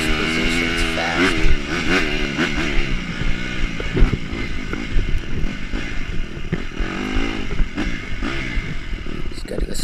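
Dirt motorcycle racing on a slippery, muddy track, its engine revving and surging steadily up and down close by, loud and continuous with some clattering.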